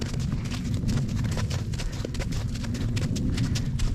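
Musica the horse is led on foot by hand rather than ridden, her hooves clopping in a continuous, even rhythm close by over a constant low rumble.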